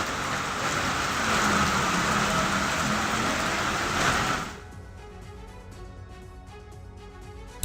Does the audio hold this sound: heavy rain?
yes